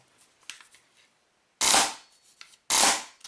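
An airsoft Polarstar gun with an Arduino fire-control unit fires in pump-shotgun mode, producing two sharp, loud pneumatic bursts about a second apart, preceded by faint clicks and mechanical handling.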